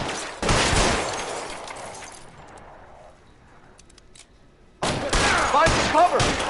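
Gunfire from the video game LA Noire crackles in loud dense bursts, a rapid fusillade at the start, fading to a quieter stretch, then another heavy volley of shots near the end, with voices around it.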